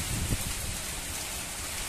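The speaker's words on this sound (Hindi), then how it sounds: "तो इस तरह से बारिश का व्यू मौसम का आनंद लीजिए" Steady rain falls on garden plants, including karonda shrubs, as a dense, even hiss that fills the scene with no breaks and no voices.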